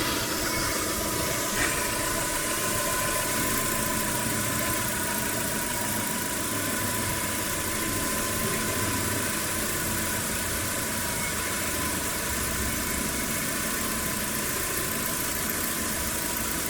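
Proton Satria GTI with a blueprinted engine idling, a steady even hum with a faint mechanical tick, close and continuous throughout with no pauses or talk.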